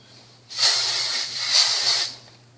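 Hairspray misted onto rolled victory-roll hair: two close, steady hissing bursts of aerosol spray, one after another, over quiet background.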